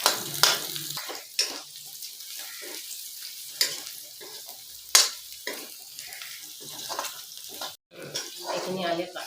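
Garlic and onion fry in a pan for a mustard and small fish curry, giving a quiet crackle broken by a few sharp spoon scrapes and clinks, with some background noise.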